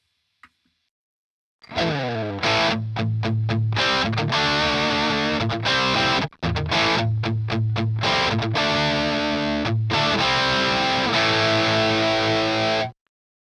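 Enya NOVA GO SONIC electric guitar played through its built-in distortion setting, heavy saturated chords and riffs ringing out loud and steady for about eleven seconds, with one brief pause midway, no talking.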